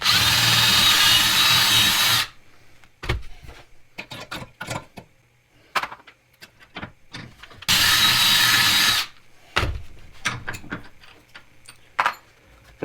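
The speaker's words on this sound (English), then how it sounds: "Step 2 is then a larger bit. Again, you don't want to step up a ridiculous amount of sizes." A power drill bores out a hole with a larger bit, working plumbing-supply material into a DIY electrical terminal: two loud sustained bursts of whining drilling separated by clicks, taps and handling noises, close up.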